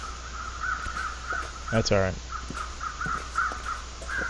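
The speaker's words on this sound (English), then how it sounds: "I do hear the crows." Crows caw in The Long Dark survival video game, with a loud cluster of harsh caws near the middle and fainter calls repeating around it, while someone briefly speaks over the game sound.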